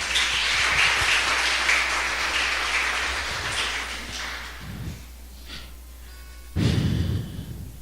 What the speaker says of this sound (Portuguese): Se você crê, aplaude a ele, em nome de Jesus